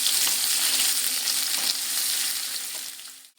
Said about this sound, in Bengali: নেড়ে চেড়ে খুব সুন্দর করে লালচে কালার করে ভেজে নেব।